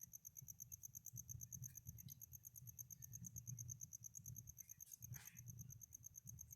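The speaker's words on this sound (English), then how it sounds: "I think you can hear the cricket." Cricket loose in a reptile enclosure under a UV light, chirping in a steady, rapid rhythm, close by but soft, over a low background hum, with no talk.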